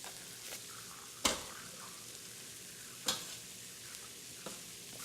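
Onions frying in butter in a pan used for meat, a soft steady sizzle with a few sharp clinks of a utensil against the pan, quiet and close.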